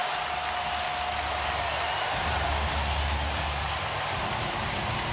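Basketball arena crowd roaring in response to a three-pointer during an NBA playoff game between the Thunder and Pacers, a dense, sustained wash of cheering and applause that swells midway and stays loud throughout.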